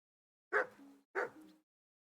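Two short dog barks or yips from a dog in the medieval role-playing game Kingdom Come: Deliverance II, fairly close and clear, spaced about half a second apart with silence around them.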